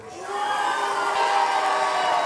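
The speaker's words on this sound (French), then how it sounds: "On peut les applaudir s'il vous plaît" Audience at the Mang'Azur 2025 convention breaks into loud applause and cheering for guests Choco and Jérôme, a dense wash of clapping and voices that swells quickly and holds steady.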